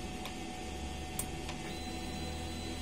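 A DTF printer runs a print head cleaning cycle, giving a steady mechanical hum with a few faint ticks and clicks spread across the short stretch and no talk.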